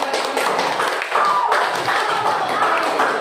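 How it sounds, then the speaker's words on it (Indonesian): A class at a vocational high school applauds with a dense, steady patter of many hands that lasts the whole stretch, close and loud, with a few faint voices mixed in. "Beri aplaus dulu"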